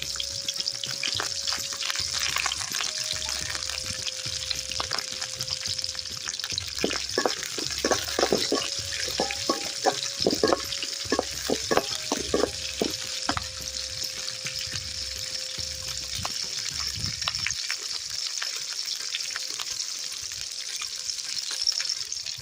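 Onion, green chili and curry leaves sizzle steadily in a hot pan for a chicken gravy, with a continuous frying hiss broken by clinks and stirring scrapes; no one speaks.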